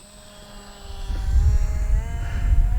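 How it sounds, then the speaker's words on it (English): A small radio-controlled Skynetic Dragonfly airplane's electric motor whines overhead, its pitch shifting as it swells louder and closer. "What a good flying little plane."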